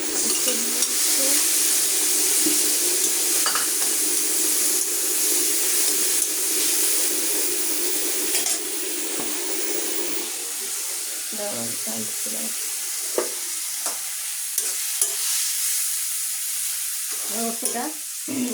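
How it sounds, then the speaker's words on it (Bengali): Bitter gourd is poured into hot oil and fries with a loud, continuous sizzle, then the hiss softens, broken by stirring clatter and faint talk. "উস্তাটা ঢেলে দিচ্ছি।"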